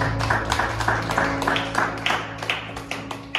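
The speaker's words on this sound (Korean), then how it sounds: "우리 하나님 영광의 박수 올려드립시다" Church congregation applauding after a sermon at a Korean congregation in Mexico, a soft, fairly quiet patter of scattered claps over a low hum, with no one speaking.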